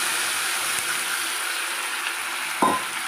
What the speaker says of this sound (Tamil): சேர்த்துட்டு நாம் தண்ணி ஊற்றிக்கலாம்